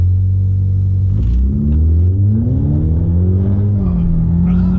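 A tuned Ford Mustang EcoBoost four-cylinder accelerating hard from a standstill, its engine note rising through the revs with a dip as it shifts, then climbing again, heard loud from inside the car.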